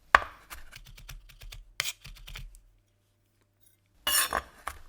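A knife crushes and chops garlic on a chopping board: a sharp opening knock, then a run of quick light taps, with a pause before a brief burst of clattering near the end, close and fairly quiet.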